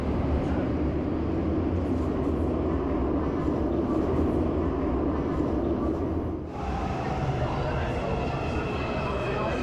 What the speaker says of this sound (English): we waited another 10 minutes for the next train.